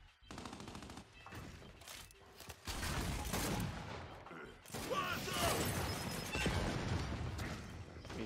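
Gunfire from a Gears 5 multiplayer match, with a sniper rifle shot among dense bursts of weapon fire and crashing impacts that fill the clip loudly, with voices faintly underneath.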